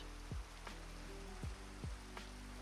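Rain in Minecraft falls as a soft, steady hiss throughout, faint and continuous, with a few brief low swooping blips from in-game block placement on top.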